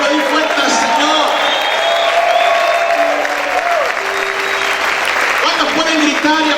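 A church congregation claps hard and shouts together, a thick roar of applause with scattered cheers and whoops, while a preacher's voice sounds intermittently over the noise.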